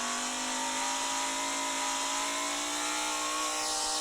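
Fast car racing in the video game Car Dealership Tycoon, a loud sustained high engine whine holding steady pitch with a slight shift near the end, no talk.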